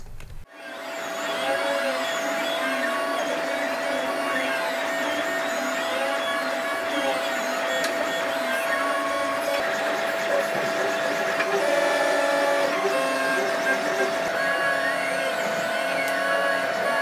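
Steady mechanical whir and whine of a 3D printer printing cosplay parts for an Alien Xenomorph costume head, running continuously and fairly close with a constant tone and fluttering motor movements, no speech.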